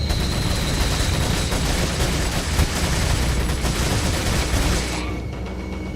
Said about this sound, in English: I'm gonna pull out the shotgun here just because they're kind of close